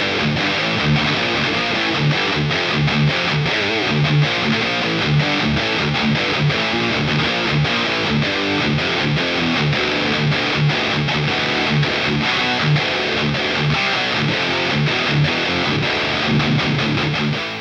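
Dense, saturated electric guitar tone with heavy high-gain distortion from a Boss Katana amp set to a Bogner Uberschall tone, played continuously and loud with chugging rhythmic chords throughout.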